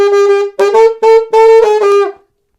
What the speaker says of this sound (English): Brass parts on our alto saxophone.